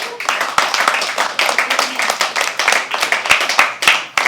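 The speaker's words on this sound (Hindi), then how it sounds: "जोरदार तालियां एक बार" Live audience at a Hindi poetry open mic at The Habitat clapping for a poet, steady dense applause with sharp individual claps standing out, loud and close, no voices.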